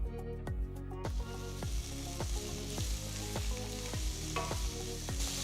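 Vegetables sautéing in a pan sizzle loudly and continuously, while a spatula scrapes in a regular rhythm of about two strokes a second, close and unaccompanied by talk.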